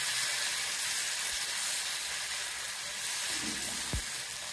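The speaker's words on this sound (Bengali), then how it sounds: "কড়াটাতে ভালো করে সর্ষের তেল মাখিয়ে নিয়েছি। এবার গ্যাসটা কমিয়ে দিয়েছি। এবার প্রথমে একটুখানি ঢেলে দেখি কেমন হয়।" Pitha batter meets a hot pan greased with mustard oil over lowered gas, giving a steady, even sizzle and hiss that stays close and constant, with one faint soft knock and no speech.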